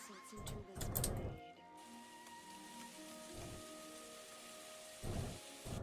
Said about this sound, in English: Does it ever stop raining around here?